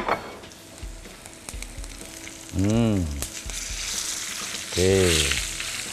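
Fish frying in a hot pan until golden, for a stir-fried glass noodle dish with seafood and holy basil: a steady, close hiss of sizzling oil, with two brief spoken bursts over it.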